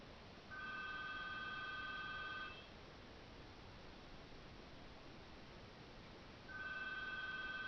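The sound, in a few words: telephone ringing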